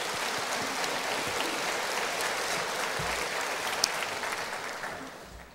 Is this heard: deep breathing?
no